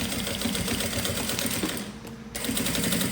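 A sewing machine runs steadily as it stitches a seam on a fabric pencil case, a close, continuous mechanical whir with a brief pause partway through before the stitching resumes.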